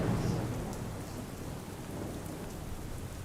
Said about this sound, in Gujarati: ભારે વરસાદ વરસતા શહેરના રસ્તાઓ પર પાણી ફરી વળ્યું।